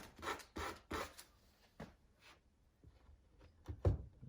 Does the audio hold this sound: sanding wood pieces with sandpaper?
yes